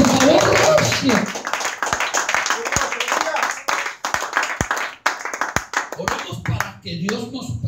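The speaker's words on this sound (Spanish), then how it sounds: "Démosle ofrenda de palmas al Eterno." A church congregation claps hands together as an offering, a dense, loud run of many overlapping claps with sharp individual strikes standing out, under continuous talk.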